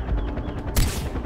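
Rapid gunfire bursts in the video game Far Cry 4, loud and close, with a sharp louder shot cracking through midway.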